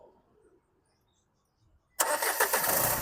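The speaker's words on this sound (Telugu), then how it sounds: "సింగిల్ సెల్ఫ్లో బండి స్టార్ట్ అవుతుంది." A 2017 Nissan Terrano XL Plus with an 85 PS engine cranks and catches on the first try: near-silence, then an abrupt loud start settling into a steady running rumble.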